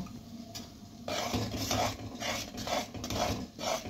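Rice flour being stirred into boiling water in a pot gives a series of rhythmic scraping, rasping strokes, close and fairly loud, repeating roughly every half second after a brief quieter start.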